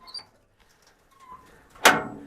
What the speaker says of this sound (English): I'm gonna open this door slowly here.